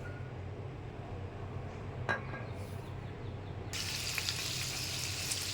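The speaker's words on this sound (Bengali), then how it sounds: "মাছ ভাজা দিয়ে দিচ্ছি, ভাজা হয়ে গেছে" Hilsa fish fries in a pan with a tablespoon of oil, a faint low sizzle that swells louder near the end, with a brief clink of utensils partway through and no speech.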